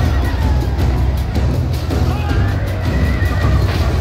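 Cavalry horses neigh and whinny amid the din of a Medieval Total War II battle between Scots and England, a dense continuous clamor of shouts and clashing under the whinnies.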